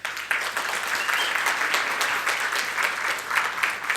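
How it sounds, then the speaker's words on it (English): Steady applause from a conference audience at a tech event as a speaker is welcomed on stage after lunch, with dense, continuous clapping from a sizeable crowd lasting several seconds. "let us welcome Glenn on stage by clapping."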